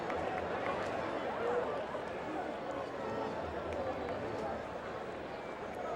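Steady murmur of a sold-out, standing-room-only baseball stadium crowd at a 1998 Trenton Thunder vs Boston Red Sox exhibition game, a constant distant roar with an announcer talking over it.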